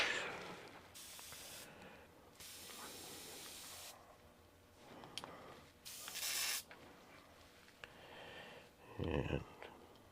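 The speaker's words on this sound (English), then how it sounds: "And we go to the airbrush." An airbrush spraying paint onto a model bucket truck, with several bursts of bright hissing spray separated by pauses, close by, plus a brief low thump near the end.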